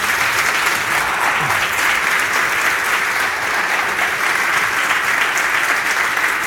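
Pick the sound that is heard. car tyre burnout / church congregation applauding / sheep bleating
church congregation applauding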